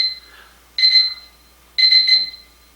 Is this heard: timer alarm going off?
yes